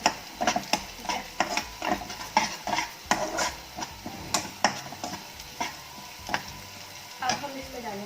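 Cumin seeds sizzle in oil in a frying pan, a steady close crackle broken by repeated sharp clinks and scrapes of a stirring utensil against the metal.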